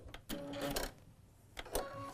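A sewing machine stitches quilt patchwork corner to corner in a brief, quiet whirring run, stopping and starting in short bursts.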